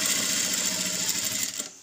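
A sewing machine runs steadily, stitching fabric at a quarter-inch margin in a tailoring lesson, its fast even mechanical whir loud and close before stopping abruptly near the end.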